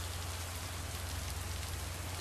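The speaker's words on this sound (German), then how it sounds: "Oh, es regnet." Steady rain falls in a video game, a dense, even hiss of drops on surfaces with a constant low hum beneath, continuous and close with no voices.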